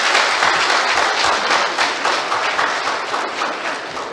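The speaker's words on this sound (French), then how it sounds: "Ceci se fera par acclamation et très fort." Loud, dense applause from congress participants adopting statutes by acclamation, continuous clapping filling the whole stretch with no speech over it.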